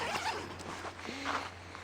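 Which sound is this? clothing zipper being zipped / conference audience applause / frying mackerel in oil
clothing zipper being zipped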